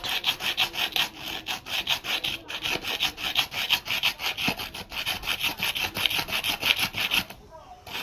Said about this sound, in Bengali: এটা প্রথমে ঘষে নেব, সানের মধ্যে ঘষে নিয়ে এটা ফুটো করে নেব।